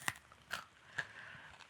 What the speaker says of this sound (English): Oh, crunchy wing tips.